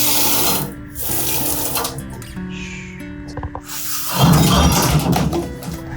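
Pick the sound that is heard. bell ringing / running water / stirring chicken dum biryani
running water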